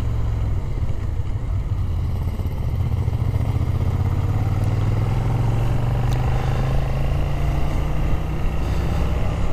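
A hired Suzuki Gladius motorcycle rides along a road in Tenerife with a steady, loud engine drone under continuous wind rush, and its pitch rises slowly.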